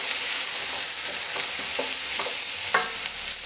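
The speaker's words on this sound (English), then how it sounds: "Stir well again. And sauté for about a minute." Garlic with mirepoix vegetables sautés in a pan for a vegetable cassoulet, a steady sizzle broken by several distinct scraping stirs of a utensil against the pan.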